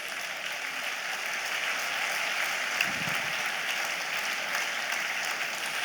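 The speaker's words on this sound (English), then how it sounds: "I'm sure we can keep clapping till she gets to the microphone" Audience applause welcoming the First Lady of Lagos State, Mrs. Bolale Ambode, at a COWSOL event: steady, sustained clapping from a large crowd, even and unbroken throughout.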